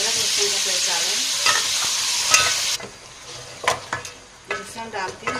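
Ginger garlic paste fries in ghee with a loud sizzle while a spoon stirs it, the hiss dropping partway through to scraping and clinking against the pan.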